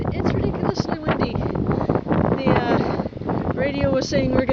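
Strong wind batters a phone microphone in a cemetery, producing heavy low rumbling buffets and gusty roar throughout, with someone talking over it.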